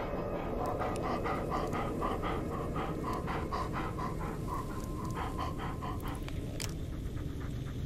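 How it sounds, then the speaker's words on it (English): A dog companion in the Blair Witch horror video game pants rapidly and rhythmically up close, quick breathy huffs repeating steadily for several seconds over a constant low background hum. "Yeah, good dog."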